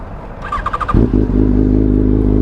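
A 2006 Yamaha FZ1 motorcycle starts up and settles into a loud, steady idle close by, its deep exhaust note rumbling evenly after a brief whirring crank.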